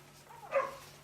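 A single dog barks once, short and moderately distant, against a quiet background during clicker training.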